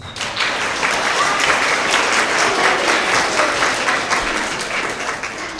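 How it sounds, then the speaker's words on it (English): Steady applause from a school assembly audience at an elementary school award event, dense clapping filling the room at an even level for several seconds with no one speaking over it. "Let's give her a round of applause."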